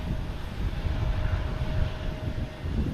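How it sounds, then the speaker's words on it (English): A JetBlue A321neo arriving at Boston Logan gives off a continuous jet rumble with a thin steady whine riding over it, fairly loud and unbroken, with light wind buffeting and no speech. "We just had a JetBlue come in."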